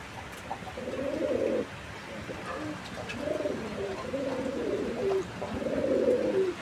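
A pair of coloured Rajgolla pigeons coo close by in a few repeated, throaty bursts of rolling calls, with short pauses between them and no talking.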